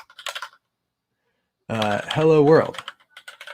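Keys clack in short bursts on a computer keyboard sitting right next to the microphone, loud and close, with a person speaking between the bursts of typing.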